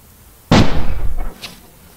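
A loud firecracker goes off outdoors in snow near China's border, one sharp close blast followed by crackling decay and a faint later pop.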